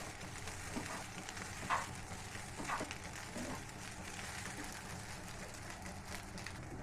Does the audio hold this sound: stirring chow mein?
yes